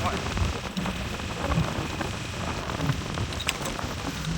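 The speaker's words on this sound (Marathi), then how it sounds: "अजून पाऊस आहे मित्रांनो बरं का भरपूर पाऊस" Steady rain pours down onto surfaces outdoors, a dense, continuous patter with scattered louder drops, heard close and fairly soft throughout without any pause.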